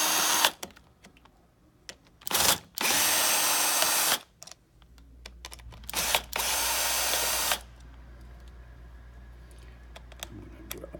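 A power drill spins screws out of a flow cell on a tie-stall dairy milking system, with several loud bursts of whirring of varying length separated by pauses, close by and with no talk.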